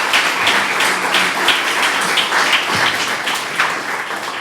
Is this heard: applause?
yes